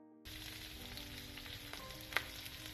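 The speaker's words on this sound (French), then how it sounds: "Un peu d'huile végétale dans une poêle et on y plonge nos oignons dedans." Thinly sliced onions drop into hot vegetable oil in a frying pan, setting off a steady close sizzle and crackle, with a brief sharper spatter near the end and no voices.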